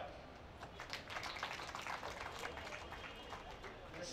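Faint, distant applause from an audience at a memorial service, a soft wash of many hands clapping steadily for a few seconds in a large room.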